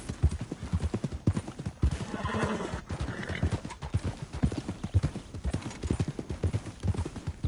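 Horses gallop in the Red Dead Redemption 2 video game, a dense rapid clip-clop of hooves running throughout, close and loud, with a brief whinny partway through.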